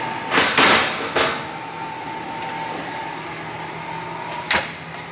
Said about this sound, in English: shut the oven.